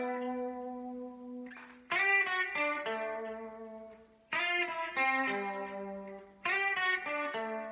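Electric guitar with an effects unit playing a song riff, a clean, chorus-tinged tone with ringing sustained notes and three picked phrases, close and alone.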